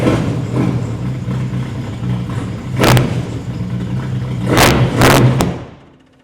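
A race car's engine runs in third gear during a clutch test, idling with a steady low drone broken by two or three sharp revs that swell and fall before the engine cuts out and goes quiet.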